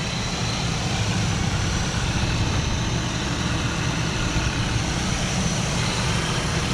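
A Chevrolet Silverado's 4.8 liter V8 idles steadily under an open hood, a smooth, quiet, constant hum with low rumble and no talk.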